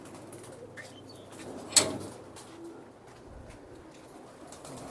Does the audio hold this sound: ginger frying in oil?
no